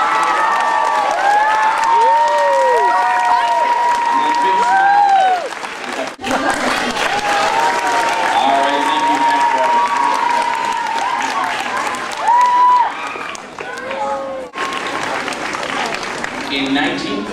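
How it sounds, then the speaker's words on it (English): Loud, sustained audience applause and cheering at an elementary-school regional math competition awards ceremony, with children shouting and voices over the clapping throughout. "Let's give our fast drill one more big round of applause."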